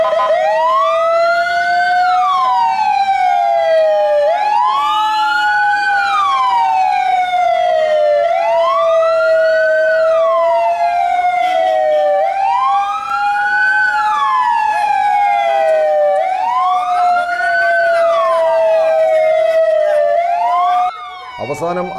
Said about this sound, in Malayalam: ഉള്ളിലുള്ള മനുഷ്യജീവനെ രക്ഷപ്പെടുത്തുന്നതിനായി ആംബുലൻസിന്റെ ഡ്രൈവർ പല ശബ്ദത്തിൽ സൈറൺ മുഴക്കിയെങ്കിലും